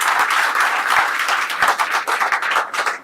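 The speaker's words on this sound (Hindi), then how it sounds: "बजाओ फिर अपने लिए तालियां।" A live audience at a family fun club event claps steadily and loudly for about three seconds, a dense crowd of hands with no voices over it.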